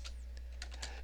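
A computer keyboard typing a short command, a quick run of light, close key clicks spaced unevenly over a steady low hum.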